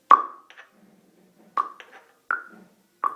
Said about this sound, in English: So we're going to use our trusty metronome over here.